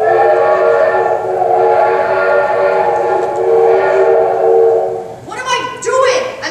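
A steam train whistle sounds in a long, loud, steady multi-tone blast, then breaks into rising shrieks as the train pulls away at the end.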